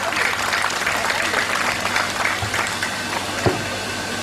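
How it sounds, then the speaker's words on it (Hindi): Loud, continuous applause from an audience at a book release ceremony, a full, even roar of many hands clapping throughout. "जोरदार तालियां।"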